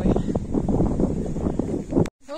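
Steady wind rushing past the microphone outdoors, a continuous low buffeting that cuts off abruptly near the end.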